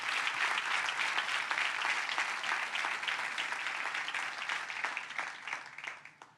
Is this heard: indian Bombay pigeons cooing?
no